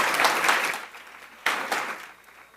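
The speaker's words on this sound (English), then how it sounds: "Can we just do a real quick clap for everyone so far tonight?" An audience at a 2025 pitch competition claps in a quick burst of applause that fades, then swells sharply again before tapering off.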